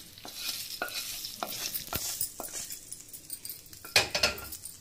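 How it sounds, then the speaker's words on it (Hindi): A spoon stirs a sizzling tempering into fine tomato paste for tomato chutney, making repeated close scraping strokes over a low fry sizzle, with a brief sharp clink of utensils near the end. "अभी हम इस मिश्रण को जो टमाटो के फाइन पेस्ट है उसमें ऐड करके तड़का लगा लेंगे।"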